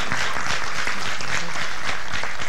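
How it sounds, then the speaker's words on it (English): Dense, loud audience applause for physicians at an evening talk on a plant-based whole food diet, a sustained wash of many hands clapping close by with faint voices mixed underneath. "a round of applause for our physicians tonight and sharing their journeys."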